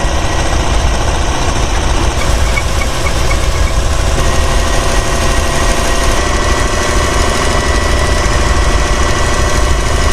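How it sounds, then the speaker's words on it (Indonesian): A sewing machine running on its own with no one at it, a steady mechanical whir and rapid knocking chatter that stays loud and continuous throughout. "mendengar mesin jahit yang menyala sendiri"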